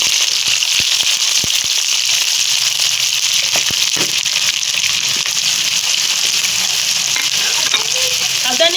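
Onions frying in hot oil in a kadai for turnip and pea sabzi, a loud, continuous sizzle with occasional sharp pops and stirring clinks.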